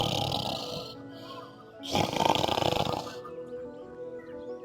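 Cartoonish snoring of a crow asleep in its nest, a raspy drawn-out inhale followed by a louder, noisier snore burst, then quiet; a voice imitates the snore.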